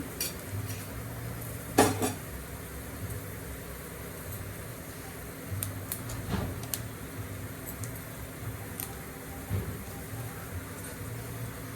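Tempering of urad dal, cumin, mustard seeds, chana dal, dry red chillies and ginger for tamarind rice, heard as quiet clinks and scrapes of a utensil against the pan over faint background noise, with one louder knock early on.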